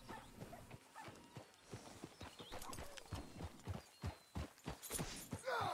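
Horse hooves clip-clop in the video game Red Dead Redemption 2, a brisk, steady rhythm of sharp hoof strikes on hard ground, quiet overall, with a brief whinny-like sound near the end.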